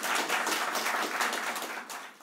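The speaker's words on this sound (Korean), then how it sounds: "박수 다시 한번." Dense, continuous applause fills a church during a Christmas service celebrating baptisms and confirmations, many hands clapping together at close range before tapering off near the end.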